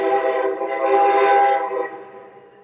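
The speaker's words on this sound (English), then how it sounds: "Oh my gosh, that is such a loud train." A loud train passes nearby with a long, swelling horn blast that fades toward the end, heard alone without talk.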